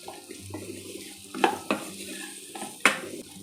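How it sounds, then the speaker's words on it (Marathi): Okra stir-frying in a pan: a steady soft sizzle with a few sharp spatula scrapes and clinks against the metal, close by. "तर आपली भेंडी ते परतवून झालेली आहे"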